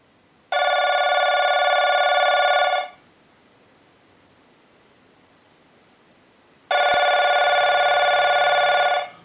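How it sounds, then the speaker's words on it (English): An electronic telephone bell on a Genie phone under repair rings a test ring cycle in two long bursts separated by a pause of quiet, loud and close, with no voices. "send a ring cycle like you were getting a call"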